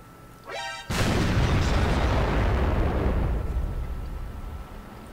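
A Hummel artillery shell strikes in the World of Tanks video game: a brief whistling sweep, then a loud, broad explosive boom that rumbles and slowly fades.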